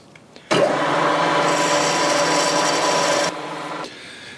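A drill bores a 4mm hole for screws with a steady, loud grinding whine that starts abruptly, holds for about three seconds, then drops off and fades.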